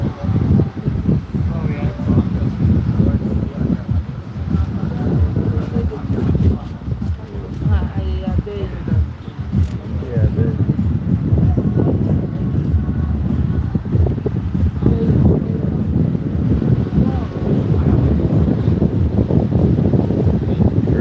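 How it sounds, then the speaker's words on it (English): A big boat's motor rumbles steadily on the River Nile near Lake Victoria, with wind buffeting the microphone and water washing nearby; a voice is faintly present under the noise. "Here the boat has to use lots of energy."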